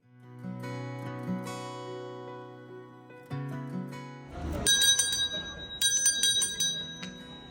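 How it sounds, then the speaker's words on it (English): The shop bell of El Gato Negro, a Spanish lottery shop, rings out in bright, sustained metallic peals over a lower tone, repeating several times with a shimmering, overlapping decay. "This bell you just heard is the famous bell of El Gato Negro"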